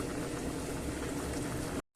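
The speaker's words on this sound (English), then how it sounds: "turn the heat off, and I'm just going to leave it there to rest until it stops bubbling." Chicken breast stew with butter bubbles in a pot with the heat turned off, a dense, steady simmering fizz that cuts off abruptly near the end.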